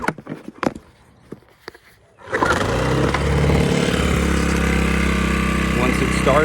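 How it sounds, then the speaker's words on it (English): A Sportsman inverter generator is pull-started: a few rattling handling noises and a yank on the cord, then the small engine catches and settles into a loud, steady running drone up close. "and then just pull to start"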